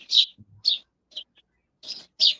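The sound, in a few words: birds singing outdoors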